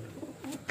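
Pigeons kept by a breeder give a brief, soft, low cooing, faint and fleeting against light background noise.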